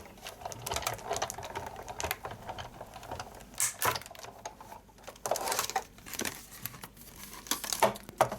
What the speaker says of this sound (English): Run it through the big shot.